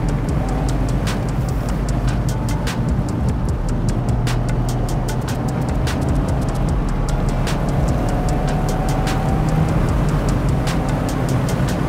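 A 2024 Mazda MX-5 ND driving with a steady loud engine drone and road roar from inside the car, passing through braking and a downshift to second gear, with faint regular ticking throughout.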